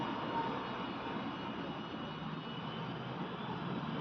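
A constant engine roar from an aircraft in flight, steady and fairly loud throughout, with no voices.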